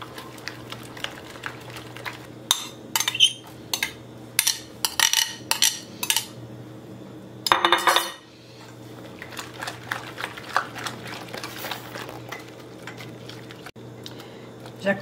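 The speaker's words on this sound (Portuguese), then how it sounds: "Vamos colocar a abobrinha ralada. Vamos misturar bem." A utensil mixes grated zucchini in a bowl, making repeated scraping and clinking strokes in uneven bursts, with one longer, louder scrape partway through and talking heard between the strokes.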